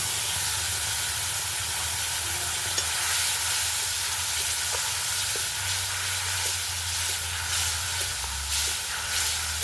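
Tomato paste frying in a pan, a loud, steady hiss and sizzle that carries through the whole stretch, with faint stirring clicks now and then.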